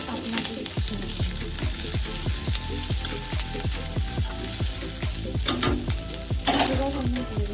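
Capsicum frying and being stirred in a pan while making butter garlic mushrooms: a steady loud sizzle with repeated rhythmic scraping strokes of a spatula, a few clattering knocks near the end, no talk.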